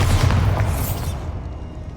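Bombarda spell blast in Hogwarts Legacy, a single loud booming burst at the start that rumbles and fades out over a second or so, with no talk.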